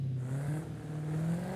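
A Dodge Challenger SRT Hellcat Redeye in Forza Horizon 5 sits idling, its deep engine rumble steady and loud with a slight waver in pitch, no voices over it.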